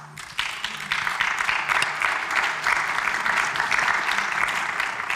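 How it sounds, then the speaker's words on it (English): An audience at a cardiovascular health talk in Vienna breaks into steady applause after a speaker finishes, a sustained, even wash of many hands clapping that starts suddenly and holds for several seconds without talking. "How come everybody claps when you speak"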